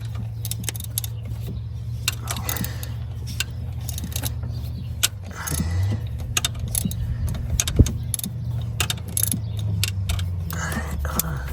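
Ratchet and socket working loose the valve cover bolts on a car engine, a run of close, sharp metallic clicks and clinks over a steady low hum.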